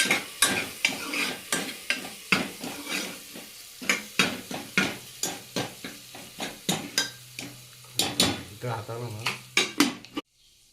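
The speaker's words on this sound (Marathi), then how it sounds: "आता हे पण ह्याच्यामध्ये चांगला मिक्स करून घेऊया" A spoon stirs tomato and turmeric in a pan for mutton rassa, scraping and clanking in a steady rhythm of repeated metallic strokes over a light sizzle.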